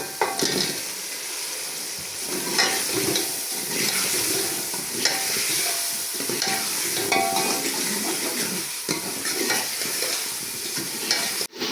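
Potatoes tipped into a pan of hot masala for aloo matar curry fry with a steady, close sizzle and crackle, with stirring scrapes throughout and no talk.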